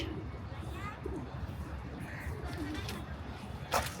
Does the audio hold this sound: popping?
no